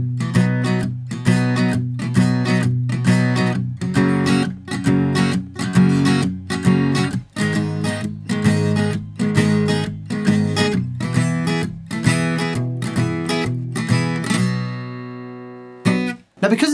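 A four-chord verse progression plays on guitar in a loose shuffle rhythm, steady rhythmic strumming held at an even level for most of the stretch before fading into a ringing final chord.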